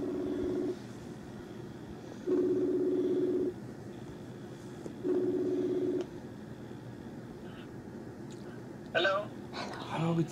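Telephone dialing tones for an international call: three long steady tone bursts separated by pauses, followed by brief clicks and other short sounds near the end.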